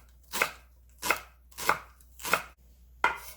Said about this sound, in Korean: 풋마늘 송송송송 썰어줍니다.